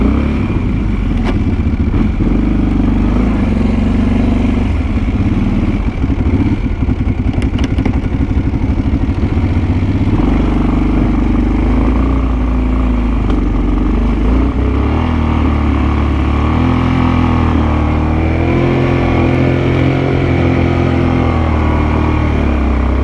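Kawasaki Brute Force 750 ATV engine under heavy load while plowing, a loud, continuous rough drone with uneven revving and choppy clatter throughout.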